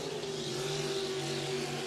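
Pro Stock race cars running side by side through a turn, a steady, droning engine roar heard from a distance, constant and unbroken with no voices.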